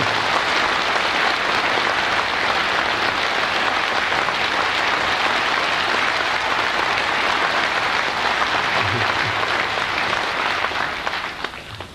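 A large audience of Korean expatriates and US lawmakers at a lecture claps steadily and loudly, the applause sustained without a break and only tapering at the very end.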